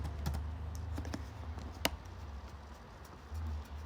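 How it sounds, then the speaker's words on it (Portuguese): Quiet keystrokes on a computer keyboard, a short run of scattered taps and clicks with one sharper press, over a faint low background hum. "ou diretamente no seu teclado, apertando as teclas correspondentes à chave"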